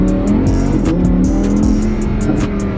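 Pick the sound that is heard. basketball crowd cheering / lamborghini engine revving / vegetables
lamborghini engine revving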